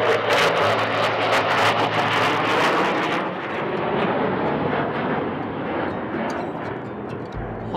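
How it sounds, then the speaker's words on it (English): An F-15 Eagle fighter jet roars overhead on a mountain hike, loud and rumbling at first, then fading to a distant broad whoosh as it passes. "I think that's an F-15 Eagle"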